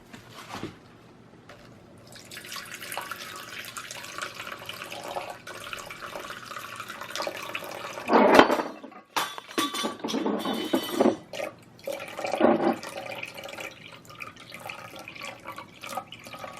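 Cochineal lake pigment being filtered out of water, with drips and trickles of liquid, splashing bursts and faint clinks of vessels close by, no talking.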